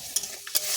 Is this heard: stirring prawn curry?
yes